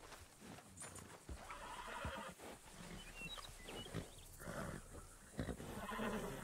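Horse neighs and whinnies with clip-clopping hooves in the Western roleplay video game RedM, several loud whinnies over a busy, continuous game soundscape.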